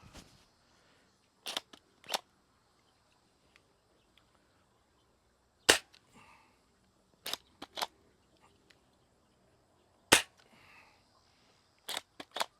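A 3D-printed Nerf hand cannon fires Nerf Pro darts outdoors: sharp, loud single pops spaced a few seconds apart, some followed by quick secondary clicks, over near-silent background without talk.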